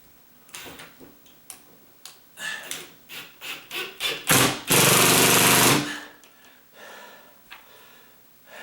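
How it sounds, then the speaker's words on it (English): A ratcheting drill driving a fastener into a pre-drilled hole while securing a ceiling fan pancake box, giving a series of close, quickening clicks that build to a loud, sustained burst and then trail off. "This is one of those ratcheted drills, and so it's supposed to make that noise."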